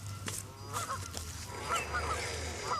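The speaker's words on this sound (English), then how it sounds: "Dog and geese going nuts in the background." Geese honk repeatedly in short nasal bursts at a moderate distance, with a low hum and some rustling underneath.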